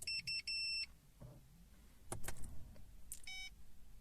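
On a VW Passat with a StarLine i96 immobiliser, the ignition is switched on, and the car answers with a series of short electronic beeps and chimes mixed with faint clicks and the hum of an electric motor.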